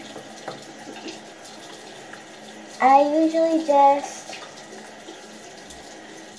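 A bathroom tap runs steadily for face washing with cold water, a soft continuous hiss in the background while a person speaks briefly partway through.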